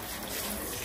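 Tap water runs steadily into a blender jar during a quick rinse between blender tests, a continuous broadband splashing rush that is close and moderately loud, with no voices.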